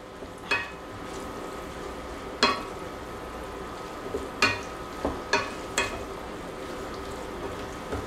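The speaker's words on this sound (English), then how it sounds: "Now, as the sauce is reducing, I'm going to add some Parmesan cheese." Pasta sauce with fiddleheads reducing in a pan as Parmesan is added, a low continuous simmering hiss broken by several sharp clicks and taps of a utensil against the pan, close and fairly quiet.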